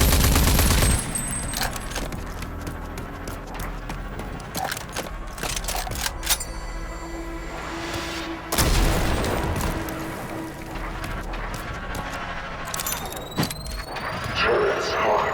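Defense turrets open fire in the video game RAGE 2, a dense burst of booming shots and rapid gunfire with squealing mechanical tones and scattered blasts, loud and continuous throughout.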